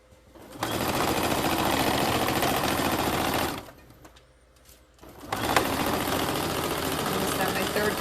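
A sewing machine stitches heavy pillow fabric in two long steady runs of rapid mechanical whirring, separated by a brief pause in the middle.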